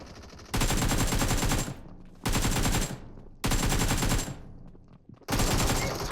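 Automatic rifle fire in PUBG Mobile comes in four long, loud, rapid bursts separated by short pauses, up close, until the ammunition runs dry; no one speaks over it.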